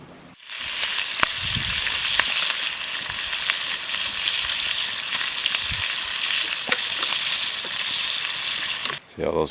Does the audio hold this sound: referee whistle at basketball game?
no